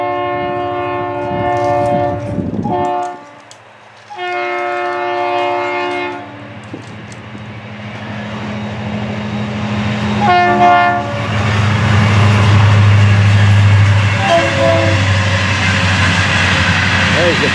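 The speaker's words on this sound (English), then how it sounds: "There's the 438, a string of empty hoppers, and those three jumbo tankers right there." A Florida East Coast freight train rolls past hauling empty hoppers and three jumbo tankers, loud and close, with repeated horn blasts over the rumbling cars and someone talking.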